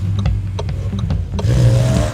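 A SsangYong Musso EV electric pickup truck moves along with a low, steady road and drivetrain rumble and a few faint knocks. The sound swells into a brighter, louder hiss of tyres and wind toward the end.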